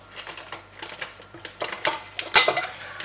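A teaspoon of black salt goes in with a spoon, sounding as a close run of small clinks, scrapes and gritty crunching against a dish, with one sharper knock near the end, no talking.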